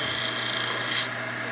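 A double-edged negative rake scraper rasps steadily across wood in a woodworking demonstration, one continuous close scraping stroke that eases off near the end.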